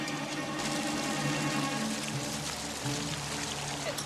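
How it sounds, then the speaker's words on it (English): High-test gasoline splashed across a water surface ahead of a stunt dive, a steady pouring, streaming wash of liquid, fairly faint, with a low droning hum beneath it. "He splashes high-test gasoline across the surface of the water."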